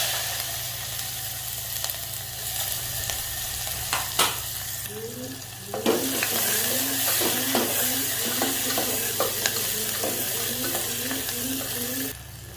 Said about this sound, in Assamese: পিঁয়াজখিনি পূৰা ৰঙচুৱা হোৱালৈকে ভাজিব লাগিব